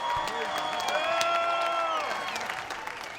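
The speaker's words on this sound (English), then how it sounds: "let's have a round of applause for these two warriors" A fight crowd applauds and cheers the two fighters after five championship rounds of a women's bout, a steady wash of clapping and whoops with a few shouts, fairly close and continuous throughout.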